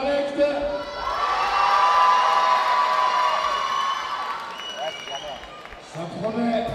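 Large crowd applauding and cheering as the U11 youth football teams of RSC Anderlecht and FC Lausanne take the field, a sustained roar with whoops and shouts, while an announcer speaks over it.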